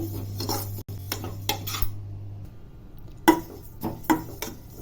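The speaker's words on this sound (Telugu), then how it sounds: "సోపు ఫస్ట్ వేయించుకుంటున్నామండి" Fennel seeds roasting dry in a kadai, metal spoon scraping and clinking against the pan in irregular close strokes, with a low steady hum at first and several sharper knocks later.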